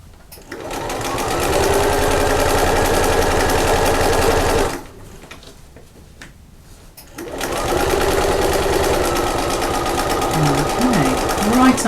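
A sewing machine stitches the seams of a spring handbag, running in two long, steady bursts separated by a short pause, with someone talking over the stitching.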